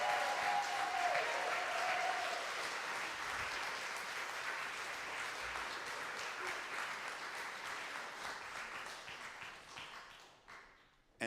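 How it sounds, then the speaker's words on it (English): Concert audience applauds a choir at a fundraiser for asylum seeker support, a full, steady wash of clapping that slowly tapers off and dies away near the end. "Could we give them one more round of applause?"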